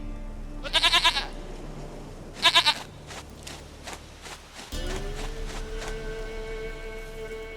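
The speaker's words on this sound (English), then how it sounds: "Goat of mine, dearest, sweetest goat." A goat bleats in The Witcher 3 as two short, loud trembling bleats, followed by a steady in-game ambient drone and faint shuffling footsteps.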